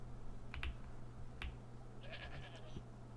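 Minecraft sheep, including a rainbow-wooled one, give a few short bleats and soft clicks, most likely from shearing, over a steady low hum with no talk.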